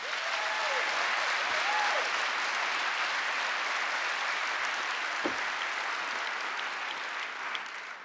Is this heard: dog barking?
no